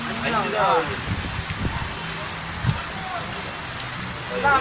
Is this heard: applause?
no